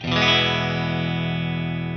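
Electric guitar on its bridge pickup through the clean channel of a Laney VH100R amplifier: a single strummed chord rings out loud and alone, then sustains smoothly and slowly fades over two seconds.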